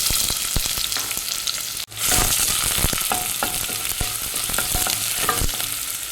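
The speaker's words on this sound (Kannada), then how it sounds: "ಸಣ್ಣ ಮಾಡಿ. ಇದು ಫ್ರೈ ಮಾಡ್ಕೊಳ್ಳುವ." Finely chopped onion frying in hot sunflower oil for a single-serving chicken biryani: loud, dense sizzling close up, broken by a brief dropout and then sharp spatula scrapes and clicks as the pieces are stirred.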